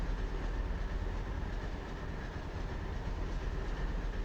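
Freight train on the New York Central Boston to Albany route in the Train Simulator video game, a continuous loud rumbling roll of railcars with steady wheel noise throughout.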